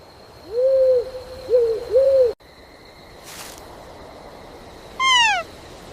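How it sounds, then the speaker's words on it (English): A baby owl hooting in an animated children's story: three soft, rounded hoots close together, a brief pause, then a falling whistled call, clear and near against a quiet backdrop. "Well, look at you, a baby owl."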